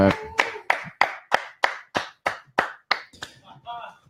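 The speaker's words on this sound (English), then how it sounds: "Get a live hand clap going for Live Maddie." About a dozen sharp hand claps in a steady, fairly quick rhythm, close and loud, each ringing slightly before the next.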